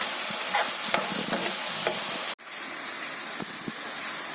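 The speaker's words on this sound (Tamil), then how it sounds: "போட்டு தளிச்சு கொண்டு வந்துடுறேன். வெங்காயம் போட்டுக்கிறேன்." Onions frying in hot oil with fennel seeds and curry leaves for a dosa filling, a steady close sizzle with scattered stirring clicks and a brief drop near the middle.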